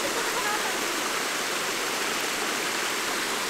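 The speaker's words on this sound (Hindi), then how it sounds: "और ये जा रहा है वाटरफॉल का पानी नीचे की तरफ" Waterfall water pours down a mountainside among high hills in Himachal, a loud, dense, unbroken roar close by, with no talk over it.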